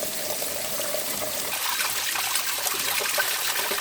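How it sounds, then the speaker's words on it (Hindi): A waterfall flows behind a Shiva temple in rocky forest, a steady close rush and trickle of falling water that holds constant throughout with no voices. "पीछे यहाँ पे एक झरना चल रहा है। इस झरने का पानी यहाँ पे पूरा बह रहा है।"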